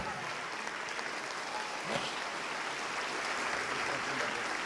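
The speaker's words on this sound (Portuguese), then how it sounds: "Vamos aplaudir mais, igreja." A church congregation applauding during a Portuguese-language sermon, a sustained, dense wash of clapping from a large crowd that holds steady throughout.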